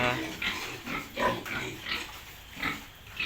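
Piglets in a fattening pen grunt softly and repeatedly, a steady scatter of low, close snuffling calls with no voices over them.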